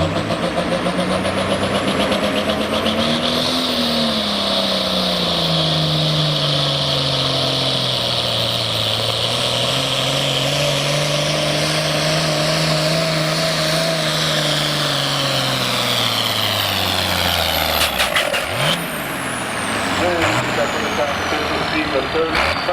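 A Family Fair pulling tractor roars at a truck and tractor pull, its engine rising and falling in pitch through a long, loud, sustained run before cutting back near the end, with an announcer talking over it.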